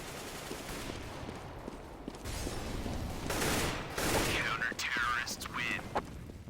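Rapid gunfire bursts from a Counter-Strike match, including an auto sniper firing repeated shots, crackling in clusters under continuous excited commentary from a caster, with other in-game effects mixed in.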